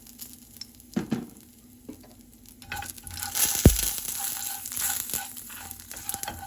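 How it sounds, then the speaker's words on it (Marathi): Asafoetida dropped into hot oil for a coconut chutney tempering sets off a sizzle that builds from quiet clinks into a steady crackling hiss, with a sharp pop partway through, close and moderately loud, no talking. "आनी आतां तेसो हिंग एसिफायड तिडा घालता."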